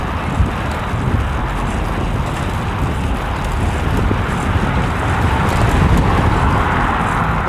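Steady roaring wind buffets the microphone while cycling downhill against a headwind on a morning commute, continuous and loud with a faint road rumble beneath.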